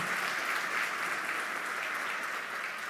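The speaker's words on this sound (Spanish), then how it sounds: "Si le vas a aplaudir la grandeza de Dios, hazlo fuerte en esta mañana" A church congregation at a morning service claps together in a continuous, even wash of applause that sounds somewhat distant and moderately quiet, with no voices over it.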